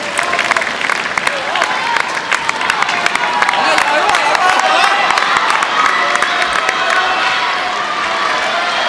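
At a table tennis team world cup semi-final between China and England, a large indoor crowd cheers and applauds loudly and steadily at match point, with dense clapping and shouts throughout.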